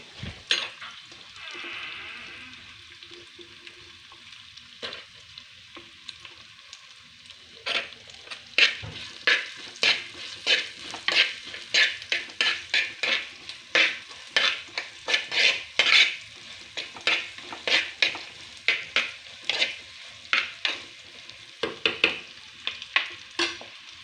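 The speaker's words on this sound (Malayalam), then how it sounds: "തേങ്ങാക്കൊത്ത് അതുവരെ നമ്മളിങ്ങനെ ഇളക്കിക്കൊണ്ടിരിക്കണം." Coconut pieces fry in a pan with a soft sizzle while a utensil stirs and scrapes, giving a quick, uneven train of close metallic clicks and scrapes, quiet at first, then busier.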